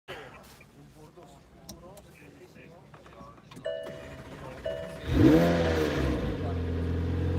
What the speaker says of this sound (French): je suis en train de démarrer une 720S